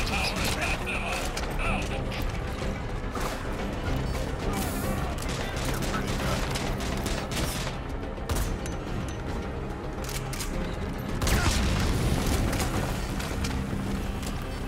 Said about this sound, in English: Yep, now I'm in a firefight.